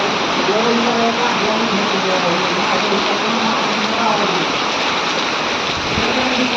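Heavy rain pouring down with water rushing into a cattle shed, a loud continuous wash of noise with voices talking under it throughout.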